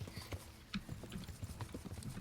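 Horse hooves clip-clop at a quick, steady rhythm while riding in the video game Kingdom Come: Deliverance, quiet and close with no talking.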